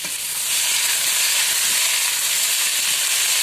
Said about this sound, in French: on voit que nos patates commencent à colorer légèrement et surtout on commence à entendre le chant de la nourriture